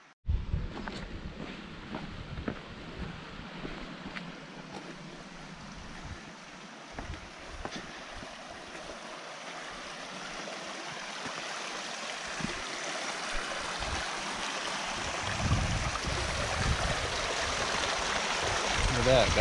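Water flows in a stream at Devil's Punchbowl, a steady rushing wash that grows slightly louder toward the end, with no voices.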